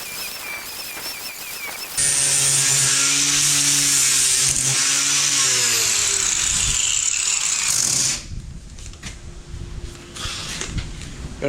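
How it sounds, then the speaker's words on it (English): A flap disc on an angle grinder working metal on a welding bench: a loud, steady high whine with a grinding rasp starts after two seconds, holds about six seconds, then stops and leaves quieter shop noise. "these flapper discs make quick work of this stuff"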